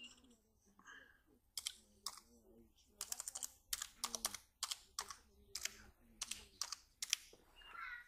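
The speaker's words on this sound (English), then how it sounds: "put in my password" Fingers tap out a password on an Apple iBook G4 laptop keyboard, giving quiet, irregular bursts of crisp clicks with short pauses between them.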